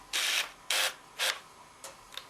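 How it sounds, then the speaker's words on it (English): Autofocus motor gearing whirs in a Sony Carl Zeiss DT 16-80mm lens, close and fairly loud, as several short buzzing bursts of similar length come in a row and the last ones grow fainter and shorter. "Now you'll have heard the gearing there."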